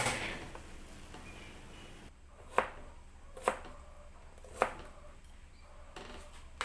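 Crushed garlic cloves being chopped on a cutting board, three sharp knife strikes spaced about a second apart over quiet background.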